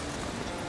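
Roach, Geralt's horse in the video game The Witcher 3: Wild Hunt, trotting with dense, continuous hoof clip-clops, loud and close, brief and with no talking.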